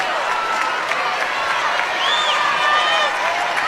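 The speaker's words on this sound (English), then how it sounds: "So the crowd trying to urge the Aces on here." Basketball arena crowd at a WNBA playoff semifinal cheering on the Las Vegas Aces against the Seattle Storm, a dense, steady roar that swells slightly near the end, with scattered whistles and shouts.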